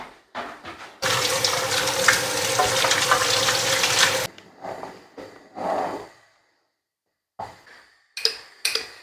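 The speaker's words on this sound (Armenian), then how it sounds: "Այստեղ սպասն է եռում։" Armenian spas, a yogurt soup, boiling in a pot on a kitchen stove: a loud, steady bubbling hiss for about three seconds, followed by scattered softer clinks and rustles, with no talk.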